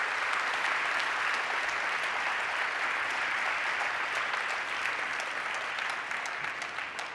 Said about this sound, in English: I would like to ask for a big round of applause to all the members of the community